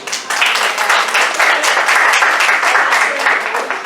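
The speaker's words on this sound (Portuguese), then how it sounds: "uma salva de palmas para ela." Steady audience applause fills the room right after a Portuguese-language speaker at an immersion workshop asks the crowd to clap for a participant, a dense even patter of many hands with no speech over it.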